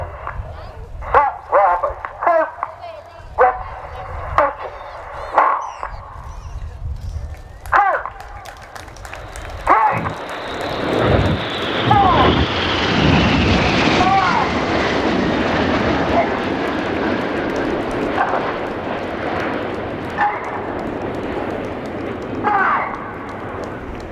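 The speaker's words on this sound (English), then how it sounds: "All 9 aircraft now turning downwind, Red 1 at the front, Red 9 at the back" Royal Air Force Red Arrows jets in a flying display at RIAT thunder past, with a loud swelling jet roar that builds midway and lingers, preceded by choppy crowd and commentary sounds.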